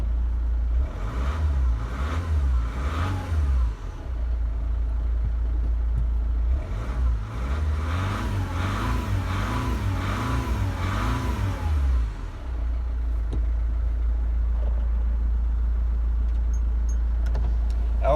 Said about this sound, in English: you should be able to hear the engine run